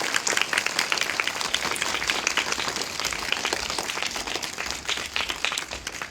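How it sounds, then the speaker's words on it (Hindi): An audience applauds two students at a school event in Uttarkashi, with dense, steady clapping that fills the whole clip at close range. "एक बार इन बच्चों के लिए जोरदार तालियां हो जाए।"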